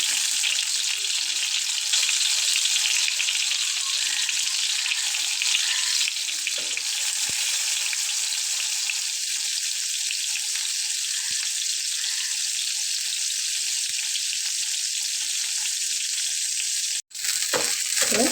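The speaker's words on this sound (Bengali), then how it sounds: "বেগুনটা ভেজে নেই।" Small local brinjals frying in a pan of hot oil, a loud, even sizzle running steadily throughout with occasional stirring clicks.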